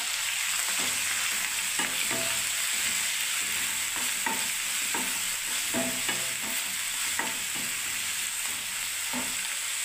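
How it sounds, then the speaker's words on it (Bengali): Onion paste fries in a pan with a constant bright sizzle while a spoon scrapes and knocks against the pan in irregular strokes, close and steady, with no voices. "দেখুন এবার আমি দিয়ে দিচ্ছি বন্ধুরা পেঁয়াজ পেস্ট, দিয়ে দিলাম পেঁয়াজ পেস্টটা"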